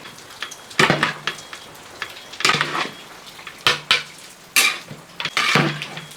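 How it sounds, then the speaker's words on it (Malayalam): Rice with pineapple, coriander and mint stirred in a large pot with a metal ladle, a series of loud scraping clanks at an irregular beat with quiet gaps between strokes. "ഇനി അങ്ങോട്ട് ഇളക്കി കൊടുക്കുക"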